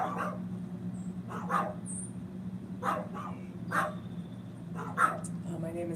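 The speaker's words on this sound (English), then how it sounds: "Now my dog, my 3-headed dog, is gonna freak out now." A dog gives several short barks and yips at moderate distance, spaced irregularly across the clip over a steady low hum.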